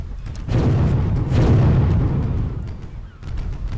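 Cannon fire from a sailing ship in the naval strategy game Windward: a close, loud volley of booming shots rolling together for several seconds, heavy low rumble with sharp cracks on top, then a fresh burst near the end.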